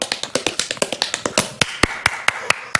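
Quick, evenly spaced sharp taps and claps at a fast tempo, about a dozen crisp hits in under three seconds, close and clear with no talking.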